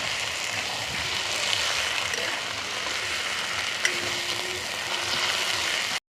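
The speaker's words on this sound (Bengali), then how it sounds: "এবার দিয়ে দেবো হালকা করে একটু ঘিটা দিয়ে একটু নাড়িয়ে চাড়িয়ে নেব।" Cabbage ghonto frying with ghee in a pan while being stirred, a steady close sizzle running throughout with faint scrapes and one sharp tick partway through.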